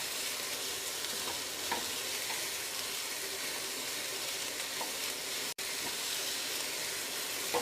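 Chopped leeks sizzle and fry steadily in a hot pan while being stirred, a close, continuous hiss with faint scraping of the spoon and one brief cut in the sound.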